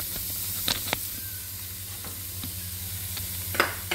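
Fried rice stir-fried in a pan, a continuous soft sizzle under repeated scraping stirs, with a few sharper taps of the spatula against the pan.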